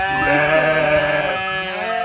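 Lambs and sheep on a village farm bleat loudly and close together in a continuous, overlapping chorus of wavering cries, with no talking.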